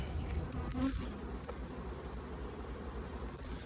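Steady insect buzzing, a dense low drone of many honey bees close by at a hive, continuous throughout with no voices.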